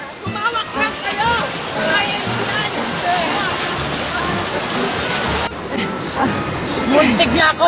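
A river rushes loudly and steadily, its broad watery roar running throughout while voices shout and call out over it.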